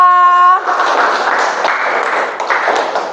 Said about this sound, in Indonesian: Beri tepuk tangan untuk Aska